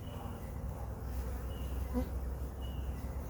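Bees hum in a steady, low buzzing drone around a hive nuc, close by and continuous throughout.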